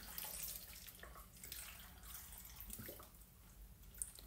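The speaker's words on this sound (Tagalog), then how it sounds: "Mineral water lagay natin." Mineral water pouring steadily into a container while preparing a detox drink, a continuous close splashing trickle at low level with no voices.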